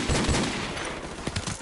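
M16 rifle fire in Call of Duty Remastered, a multiplayer match: a burst of fairly quiet rapid shots over dense game noise, with a couple of sharper reports near the end.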